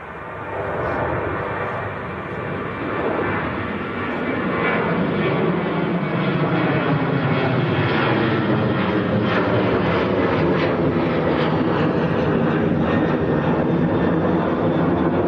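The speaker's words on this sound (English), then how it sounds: "Next departure on the roll. This is Ryanair to Oslo," Ryanair Boeing 737-800 jet rolling for takeoff at Manchester Airport, a deep sustained engine roar that swells and holds loud with a slowly shifting drone over roughly fifteen seconds.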